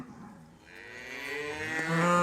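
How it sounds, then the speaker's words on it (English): A cow in a pasture during breeding season lets out a single long, rising moo, close and growing louder as it swells to the end, with no other sounds around it. "there's cows in heat and bulls pretending to fight"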